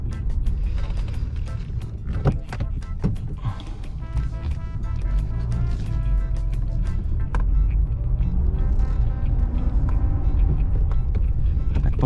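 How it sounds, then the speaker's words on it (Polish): A 1980 Mercedes car engine running warm, a continuous low rumble with some clicks and mechanical knocks over it, steady and close throughout. "żebyście mogli chociaż usłyszeć delikatnie dźwięk tego silnika"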